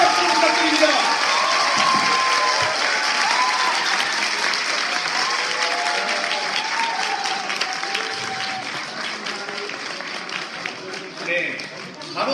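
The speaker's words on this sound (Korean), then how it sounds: "큰 박수 부탁드립니다" A large crowd at a Democratic Party new-member academy event in Korea applauds continuously, a dense, loud wash of clapping that stays steady for the whole stretch, with faint voices underneath.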